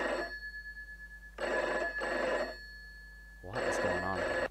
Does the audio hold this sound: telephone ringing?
yes